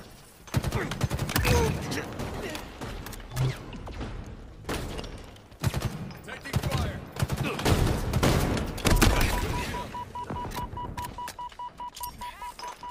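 Rapid bursts of video game gunfire from a Halo match crackle in dense clusters, loud and repeated across the whole stretch, with a few heavier thuds and a steady electronic beep tone near the end.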